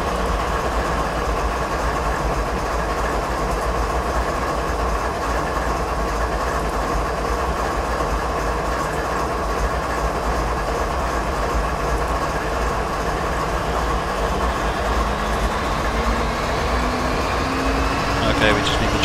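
A train in a train simulator game runs through Canadian mountain passes with a constant heavy rumble and engine drone. A rising whine-like tone builds over the final seconds.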